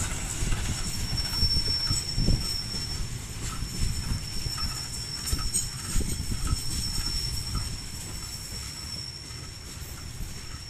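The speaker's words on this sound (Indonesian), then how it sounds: "Sesaat lagi kereta api lokal Bandung Raya persiapan merapat stasiun Cimekar." A Bandung Raya local train, hauled by locomotive CC2019209, pulls into Cimekar station with a heavy low rumble, rhythmic wheel clatter and a thin high squeal of braking wheels, loud and close as it eases to a stop.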